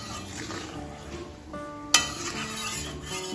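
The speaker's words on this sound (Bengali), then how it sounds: "সব কিছু ভালোভাবে মিশিয়ে নেবো" A spoon stirs turmeric, slit green chillies and about two cups of water in a pan for a fish curry, with soft scraping, light clinks and a faint sizzle close by and one sharp clink near the middle.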